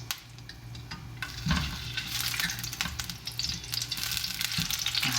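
Noodles being stir-fried in hot oil in a wok for soy sauce chow mein, a steady close sizzle and crackle with a few louder bursts as the wok is worked, no talking.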